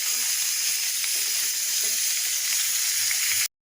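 Chicken pieces hit a pan of fried-down spice paste and sizzle loudly and evenly at close range, a dense steady hiss that stops abruptly at the end, with no talking.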